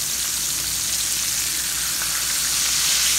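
Steady, continuous sizzling of meat frying in a hot pan, loud and close, with no voices over it.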